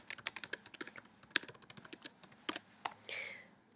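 Someone types a username and password on a computer keyboard: a quick run of light key clicks with irregular gaps, close and fairly quiet, ending in a short shuffling sound.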